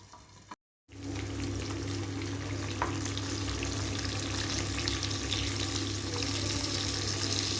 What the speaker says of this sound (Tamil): இப்போ மேக்னேட் பண்ணி வச்சுருந்த ஃபிஷ்ஷை இதில் சேர்த்துக்குவோம். மூடி போட்டு நல்லா ஃப்ரை பண்ணிக்கலாம்.